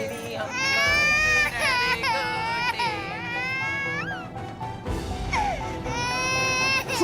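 An infant cries loudly indoors at home, with rising and falling wails that run almost continuously and break off briefly before resuming.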